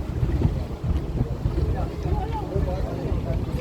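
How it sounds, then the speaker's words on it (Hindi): A boat moves across the sea near Bangaram Island in Lakshadweep, a steady engine rumble mixed with wind buffeting the microphone and rushing water. Voices chatter faintly underneath. "बोट आगे बढ़ रहा है।"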